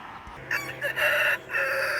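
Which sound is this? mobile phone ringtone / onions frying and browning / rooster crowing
rooster crowing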